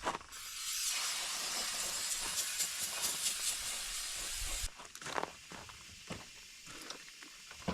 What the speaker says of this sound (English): A little brake cleaner perhaps.